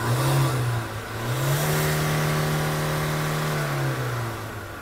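A car engine is revved up to around 4,000 rpm, its tone climbing, holding a sustained high drone for a few seconds, then easing back down, loud and close with no voices.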